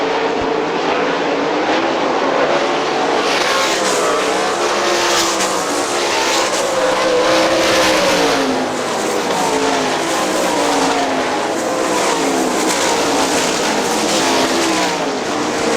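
Sprint race cars roar around Hartford Speedway Park, a loud, continuous engine drone that swells and fades slightly as cars pass, with no talking over it.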